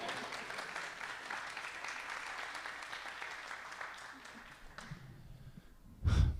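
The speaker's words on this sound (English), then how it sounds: "Pause for applause." Audience applause at an Indigenous alumni forum on Lekwungen territory, a steady crowd of clapping that fades over several seconds before a sudden loud thump near the end.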